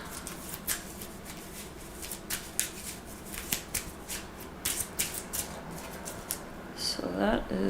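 Playing cards riffled and shuffled at a Marvel Champions card game table, a run of quick crisp flutters and snaps at close range, with a voice faintly underneath.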